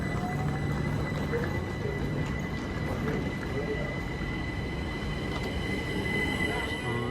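A two-coach train arriving at a station platform rumbles steadily with metallic rail noise and faint wheel squeals, a continuous close drone throughout.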